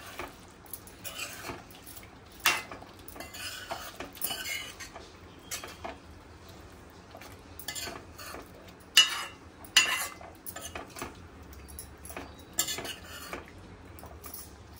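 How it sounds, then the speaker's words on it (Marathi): A utensil stirs chicken masala in a metal pot, giving irregular scraping strokes and occasional sharp clinks against the sides, close and clear with no talking. "मसाला चांगला एकत्र करून घ्यायचा आहे आपल्याला."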